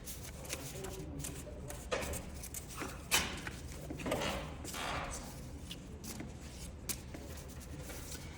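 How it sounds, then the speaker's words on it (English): Soft papery riffling and shuffling of a card-game deck, quiet and continuous, with a few light taps against a steady background hiss. "So we need to shuffle our deck."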